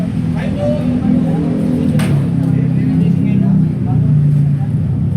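A motorcycle engine runs steadily close by, a low rumbling drone that stays constant throughout, with a few faint voices in the background.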